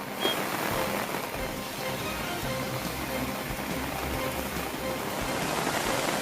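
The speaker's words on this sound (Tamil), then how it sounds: "திருவள்ளூர் மாவட்டத்தில் பரவலாக கனமழை பெய்துள்ளது" Heavy rain pours steadily in Tiruvallur district, a dense continuous hiss of falling water that stays even and fairly loud throughout, with no voices.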